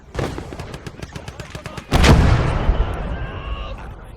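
Artillery fire in a World War II setting, rapid rhythmic firing followed by a heavy booming blast that rolls and decays over several seconds, loud and close.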